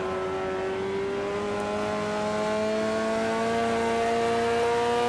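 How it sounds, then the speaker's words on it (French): A race car engine in the video game Next Car Game drones steadily at high revs, its tone slowly climbing as the car accelerates, loud and continuous with no talk. "On attend le moteur à lui, là, ça fait du bruit."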